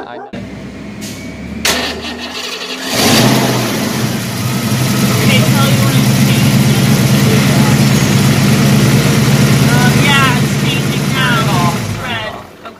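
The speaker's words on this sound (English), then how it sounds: "we might have to start the engine" A 1989 Ford Mustang Fox Body engine cranks and catches during a power steering fluid flush, then settles into a steady loud idle with a low rumble; voices speak over it.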